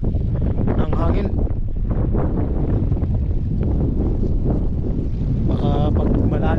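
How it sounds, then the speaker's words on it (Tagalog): Strong wind gusting on a beach where a small fishing boat is being hauled up, loud and constant with heavy buffeting on the microphone throughout. "sobrang lakas naman ng hangin"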